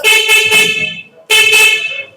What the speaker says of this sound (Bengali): এই যে হর্ন বাজাইলাম দেখলেন এই হর্নটা কিন্তু একটা হর্ন বাজে নাই এখানে দুই দুইটা হর্ন বেজেছে